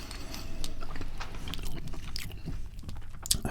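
Close-up, crunchy bites and chewing of Chinese fried chicken. Crisp crackles and munching repeat steadily over a dense background, with no voices.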